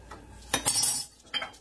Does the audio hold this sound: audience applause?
no